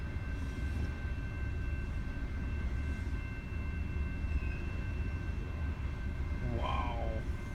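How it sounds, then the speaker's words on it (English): A long coal train passes in Perry, Michigan, a continuous loud low rumble and rolling clatter of rail cars with a steady high whine and a brief rising squeal near the end. "And that's a long train too. It's all coal."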